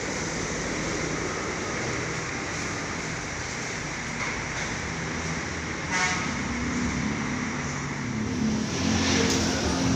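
Rosalia Indah intercity bus, number HDD 559, arriving after a trip from Java, its engine a steady low rumble with road noise that swells slightly toward the end, heard without talk.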